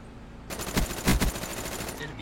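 Rapid bursts of video game gunfire, a run of loud shots with two heavier peaks near the middle, dense and continuous after a quiet start, with no talk over it.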